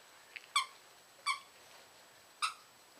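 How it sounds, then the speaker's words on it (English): A pet rodent gives three short, high-pitched squeaks, evenly spaced and fairly close, in an otherwise quiet room. "It's Travis squeaking"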